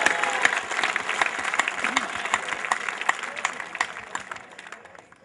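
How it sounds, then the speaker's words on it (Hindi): An audience at a poetry gathering claps to welcome a poet to the stage, steady dense applause that thins and fades toward the end, fairly distant. "आप तालियां बजाकर स्वागत कर दें"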